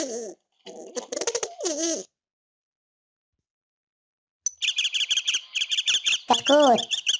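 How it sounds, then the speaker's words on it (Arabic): A pigeon coos in soft, close, rolling calls, first a short series, then after a silent gap a longer stretch of warbling coos. "حمامة."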